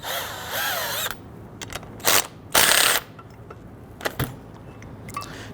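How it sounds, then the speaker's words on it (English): Ratchet with a 17mm socket loosening the brake caliper slider pins on a 2011-2017 Nissan Quest, a whirring burst followed by several short bursts of clicking and metallic knocks, close and loud. "We're going to use our 17mm socket to loosen and remove these."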